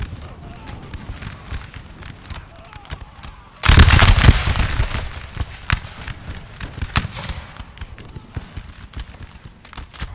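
Massed musket volleys in Napoleon: Total War, a multiplayer battle with British line infantry under heavy fire: a sudden loud burst of overlapping shots, then scattered crackling reports continuing over constant battlefield din, with talk over it.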